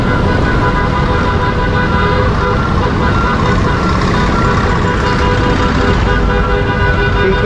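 Loud, dense road traffic of cars and motorcycles on a congested street, a constant engine rumble close by with occasional horn toots mixed in.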